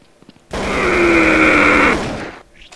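An AK rifle in Counter-Strike: Source fires a sustained, loud automatic burst lasting over a second, the rapid shots blurring into a steady rattling roar before cutting off.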